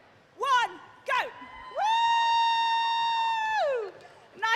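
A school team at the FIRST LEGO League UK and Ireland Final 2015-16 bursts into a short cheer of whoops and shouts after a countdown, with two quick yells followed by a longer sustained group cry, close and loud.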